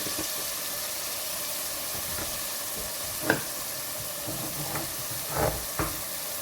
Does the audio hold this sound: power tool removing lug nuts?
no